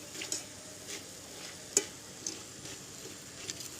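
Bonde batter balls frying in a little oil give a faint, steady sizzle, broken by light clicks and taps from stirring.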